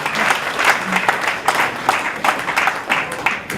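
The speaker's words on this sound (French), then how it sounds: "que nous les applaudissions très fort pour les encourager" An audience at a Guinean business event applauds loudly, a dense, steady burst of many hands clapping for several seconds with no voices over it.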